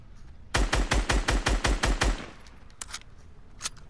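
Assault rifle gunfire in a Fortnite-style video game: a rapid burst of about eight loud, evenly spaced shots, then a couple of fainter isolated pops against quiet background.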